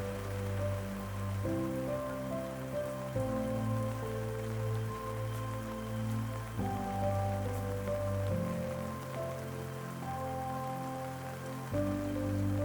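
Steady rain falls on the Pacific Crest Trail, a constant wash of drops on a surface with a low, droning hum running underneath throughout.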